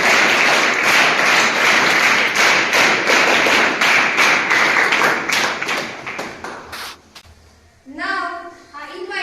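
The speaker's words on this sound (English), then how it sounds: "let us celebrate Dasara by a big clap for each other" School students clap together at a Dasara celebration, a dense and loud round of applause that lasts about seven seconds before it dies away, followed by a voice speaking.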